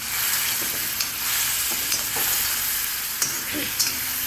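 Lemon juice and red chili mixture sizzle in a pan for lemon rice while a spoon stirs it, giving a continuous close frying hiss broken by soft scraping knocks.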